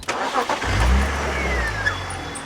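A used car's cold engine cranks and catches after a short starter whirr, then settles into a loud, close idle with no voices.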